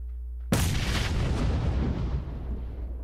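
A grenade explodes in a PUBG match with one sudden, heavy blast that rolls on into a long, loud, rumbling roar.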